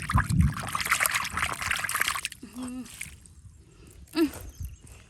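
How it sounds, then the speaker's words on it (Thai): Water trickles and splashes for a couple of seconds as a cat's bowl is rinsed, then it goes quieter with a few short vocal sounds. "เดี๋ยวขอล้างชามให้แมวก่อน"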